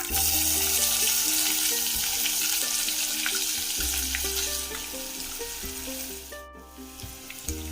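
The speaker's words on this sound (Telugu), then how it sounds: "ఆవాలు వేగాలి, ఉల్లిపాయలు" Mustard seeds and onions fry in hot oil for a broad bean and potato curry, a continuous close hiss and crackle running under steady background music.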